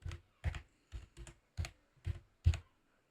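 Text typed on a computer keyboard, a close, quiet run of about seven separate key-click bursts in an uneven rhythm, with no talking.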